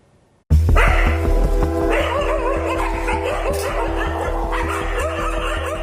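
Stray dogs barking on a street in Hyderabad, a rapid run of loud, close, overlapping barks and yips that starts abruptly and keeps going steadily.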